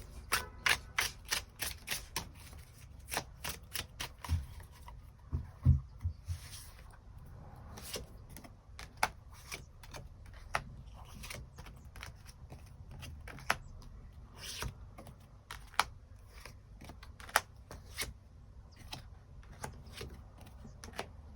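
Tarot cards shuffled and drawn at close range, a quick run of crisp card flicks and taps at first, then scattered sharp snaps and soft slides over a quiet background, no voices.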